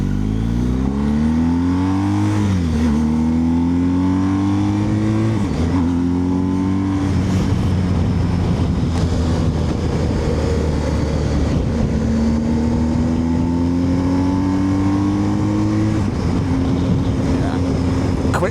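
BMW R1250 GSA motorcycle accelerating hard up through the gears with a quick shifter, engine pitch climbing then dropping sharply at each clean shift, repeated several times, close and loud under wind roar.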